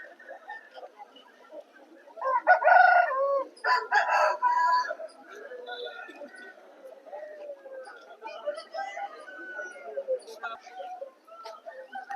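Roosters crow repeatedly at a bustling rooster market in Vijayawada, with loud, close calls early on and fainter crowing and clucking further off, mixed with crowd chatter and voices talking.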